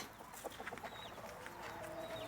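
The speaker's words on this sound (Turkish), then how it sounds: "Bu da mavi horozum benim." A blue rooster on a village farm gives a few soft, low clucks, quiet and somewhat distant, against faint outdoor background noise.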